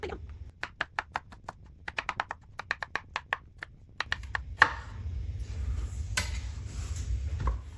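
A kitchen knife chopping ingredients for a chicken and potato dish on a cutting board, a quick run of sharp, close taps in uneven bursts, then a rustle and a low hum of handling.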